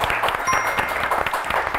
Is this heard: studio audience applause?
yes